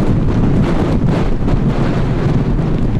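Strong wind on a beach roars steadily and loudly across the microphone, a constant buffeting rush with no talking.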